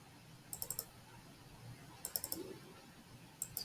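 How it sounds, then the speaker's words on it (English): Clicks from a computer mouse come in three brief clusters of sharp, close taps, some of them paired like double clicks, over a quiet room hum. No one speaks. "And double click."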